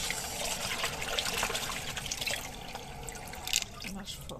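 A brush is rinsed in water with close trickling, dripping and splashing sounds, while someone speaks faintly in French.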